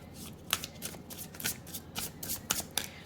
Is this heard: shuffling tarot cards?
yes